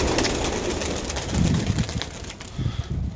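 Flying pigeons just released from their loft give soft, low cooing calls in short bursts close by, mixed with faint wing flutter and a steady outdoor hiss; no speech is present.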